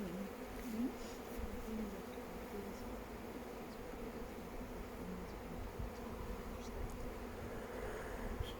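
Honey bees buzz around beekeepers at a bee school in Scotland, a soft, continuous swarm hum with individual bees droning past now and then, faint and steady with no voices.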